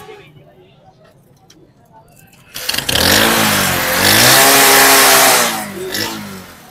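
A used motorcycle at a Karachi bike market starts up close by and revs loudly, the engine note rising and falling through a sustained roar, with someone talking before it starts and voices under the engine.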